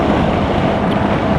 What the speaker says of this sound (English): into quite a strong gusting westerly wind